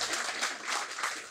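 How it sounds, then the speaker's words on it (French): A small audience at a French business talk claps briefly, a soft, dense patter of many hands that rises and falls slightly over a second or so, with no voices over it. "Si on peut l'applaudir un peu, s'il vous plaît."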